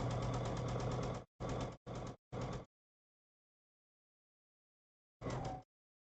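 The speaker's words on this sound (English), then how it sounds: "just sew a really long seam" A sewing machine running a long quilt seam: one sustained mechanical whirring run, three quick short bursts, a long silence, then a final short burst, close and clear with no talking.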